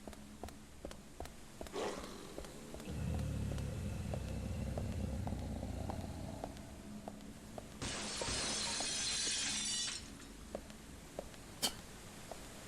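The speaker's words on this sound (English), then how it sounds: "I like the glass shattering out of the windows that still has glass in them." Window glass shattering in the video game Deadly Premonition, a bright burst of breaking glass lasting about two seconds, preceded by a low rumbling stretch and scattered clicks and footsteps, with no talking.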